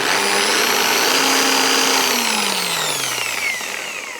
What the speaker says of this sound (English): let's start looking at the rotating polishing machine